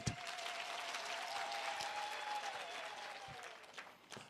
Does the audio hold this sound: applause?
yes